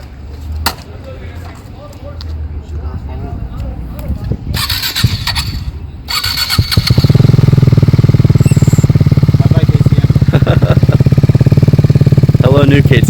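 KTM RC390 Cup motorcycle engine cranking, catching and settling into a loud, close, steady idle after a stretch of handling noise and talk.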